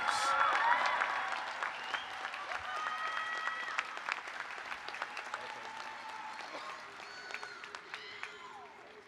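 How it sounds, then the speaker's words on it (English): A convocation audience at the CSUN Honors Convocation applauds and cheers for a graduating senior, with sustained clapping that swells at first and slowly fades, scattered whoops and voices mixed in. "Let's give a cheer for Jesus Gonzalez"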